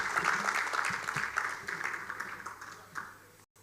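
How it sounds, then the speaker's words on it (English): Applause after a speech at a housing show, a crowd clapping together, strong at first and then thinning into scattered claps before cutting off abruptly. "Please, a round of applause for him."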